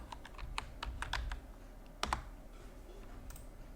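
Fingers type on a computer keyboard in quick, close, uneven bursts of clicky keystrokes, with a short pause before a final few taps.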